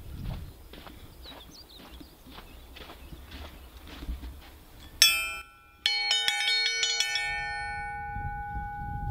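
A bell or chime is rung to call a horse in for feed time on a farm, first with hoof-like steps and footfalls, then a sharp strike and a run of ringing, sustained metallic tones that linger loudly near the end.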